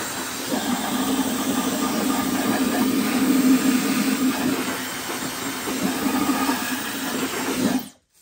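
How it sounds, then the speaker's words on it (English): A hair dryer blows a steady, loud rush of air through a dusty Shark vacuum filter and runs for about eight seconds before cutting off abruptly. "I am going to grab a hair dryer that I have, and this is really good at blowing dust out"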